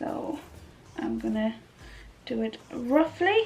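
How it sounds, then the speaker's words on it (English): A dog whimpers in short, high, wavering cries that overlap someone talking nearby indoors. "sorry, that was the dog"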